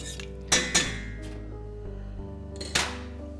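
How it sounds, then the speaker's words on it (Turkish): Melted butter stirred into a potato mixture in a bowl: a few sharp clinks of a utensil against the dish, spaced apart, with a soft background hum. "eritilmiş tereyağımızı ilave ediyoruz. Bunları da karıştırıyoruz."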